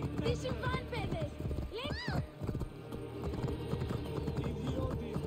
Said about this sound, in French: Des chevaux, bébés!